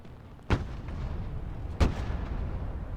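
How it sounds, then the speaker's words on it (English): Two booming artillery shots in the Broken Arrow video game, about a second apart, each a sharp heavy blast over a steady low rumble of battlefield noise. "Artillery's opening up, but it's too late."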